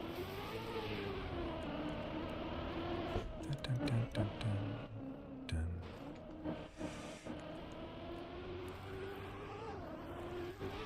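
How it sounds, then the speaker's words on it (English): A steady engine drone with shifting pitch hums throughout at moderate volume, occasionally rising as if revving, with some clattering noises midway. "What's up with the noise of the car?"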